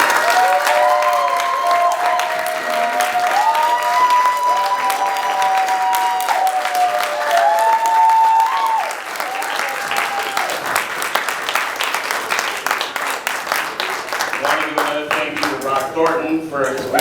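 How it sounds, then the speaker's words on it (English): An audience inside a theater gives a sustained round of applause at the close of a panel discussion, dense clapping that rises strongly and carries on to the end, with a voice and music heard over the start. "can we give one more round of applause"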